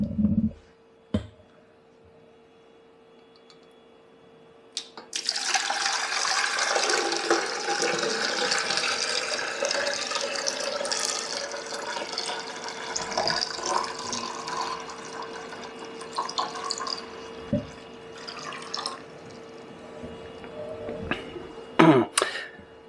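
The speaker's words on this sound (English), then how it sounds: "I'm gonna put some water in it." Water is poured into the water tank of a De'Longhi La Specialista espresso machine, a steady splashing fill lasting most of the stretch after a quiet start, ending with a few clunks.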